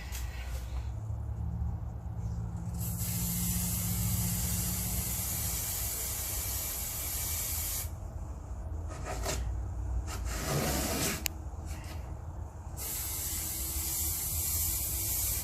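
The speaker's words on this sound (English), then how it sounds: "as I'm spraying my edges" An aerosol can sprays paint along the edges of an acrylic pour painting, long loud hissing bursts broken by short pauses, close to the listener and with no talk.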